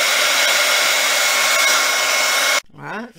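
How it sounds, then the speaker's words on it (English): Craft heat tool blowing hot air to dry paint on a mixed-media paper clay Easter egg, a steady loud whooshing hum that cuts off abruptly, followed by a brief voice. "dry this with my heat tool"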